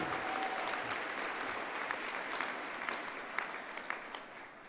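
Sustained crowd applause for graduates at a university summer graduation ceremony, a dense wash of clapping that fades slightly toward the end, with a few sharper claps standing out.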